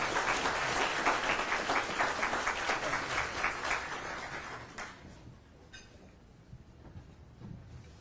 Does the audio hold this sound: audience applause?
yes